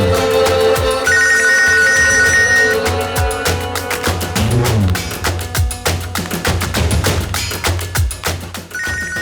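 A telephone rings loudly with an incoming call in a Tamil TV serial, a repeating electronic ringtone pattern that fills the scene for several seconds with no talking.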